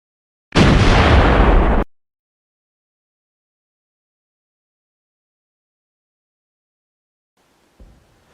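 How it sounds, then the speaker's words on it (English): A single loud artillery explosion from the nighttime bombardment of a FAPLA-held town on the Lomba front, a sharp broadband blast lasting over a second, followed by long silence and a faint low thud near the end. "they began a bombardment of the FAPLA-held town that would not let up for nearly a year."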